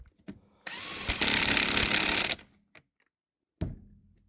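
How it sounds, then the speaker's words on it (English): An impact wrench on a Jeep fires one loud, rattling burst of just under two seconds, with a brief tap just before it and isolated clunks and knocks in the quiet afterward. "So we're impacting it on."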